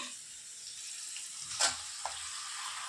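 Masala with tomato and potatoes fries in a pan for a drumstick and potato mustard curry, a soft continuous sizzle with a couple of quick stirring scrapes, quiet and close.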